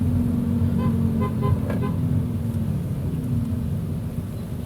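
Steady low rumble of tires rolling on pavement heard from inside a moving Honda HR-V, with a faint engine hum and brief passing tones.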